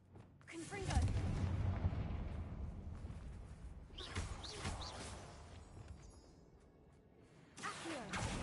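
A Confringo blasting spell cast in the video game Hogwarts Legacy: loud booming blasts with rushing whooshes, a long roaring burst at first, then a second one and a third toward the end, with rumbling in between.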